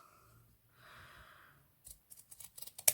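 Scissors snip through the ribbon tail of a hair bow: soft rustling handling, then a few light clicks and one sharp, close snip at the very end.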